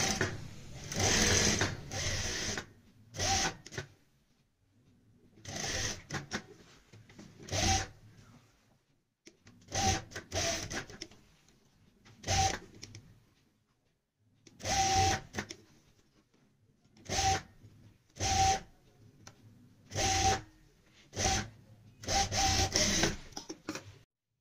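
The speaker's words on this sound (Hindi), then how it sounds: "स्टिचिंग के लिए आ चुके हैं हम मशीन पे" A sewing machine stitches a halter-neck blouse in about a dozen short, whirring bursts, each a few seconds long, with quiet pauses between them as the fabric is repositioned.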